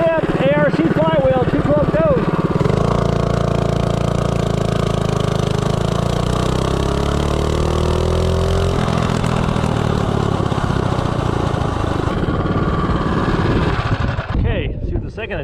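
A 212 Ghost small engine fitted with an ARC flywheel runs hard and loud for a sustained stretch, its pitch climbing and holding steady at high revs before cutting off near the end, with voices audible at the start.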